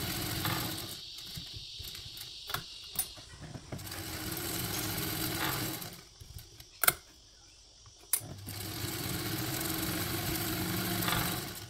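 A sewing machine top stitches a Peony bag at a one-eighth-inch seam allowance, its motor whirring in steady runs broken by short pauses and a few sharp clicks.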